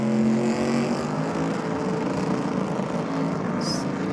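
A small Mazda ute at a race event, engine roaring at high revs during a tyre burnout, a loud sustained drone filling the whole stretch with slight fluctuations.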